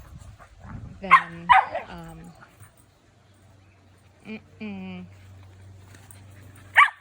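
An adult dog gets snappy with a puppy during play, giving several short sharp yelping barks and snarls spread across the moment, with a brief spoken word in between.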